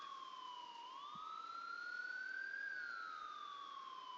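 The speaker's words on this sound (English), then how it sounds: "They still seem to be hearing the ambulance like right there." An ambulance siren wails in the distance near a speedway, its tone sliding slowly up and then back down in a long, faint, continuous sweep over quiet background.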